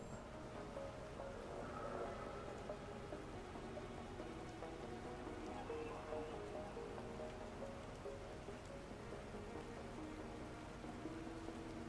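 Steady rain falling on the planet in the survival game Planet Crafter, a soft, even hiss that stays constant throughout with no talk over it.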